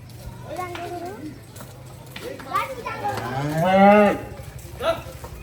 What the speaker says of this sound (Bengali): সবাই এসে গেছে গরু দেখতে